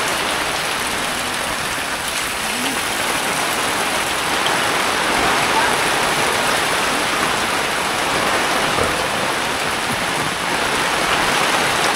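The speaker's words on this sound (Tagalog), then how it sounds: "Ulan." Heavy typhoon rain pours down steadily at a farm, a loud, dense, unbroken hiss that fills the whole stretch with no voices.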